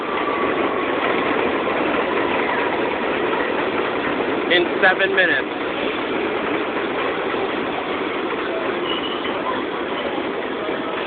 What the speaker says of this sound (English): Another 7 Manhattan-bound train.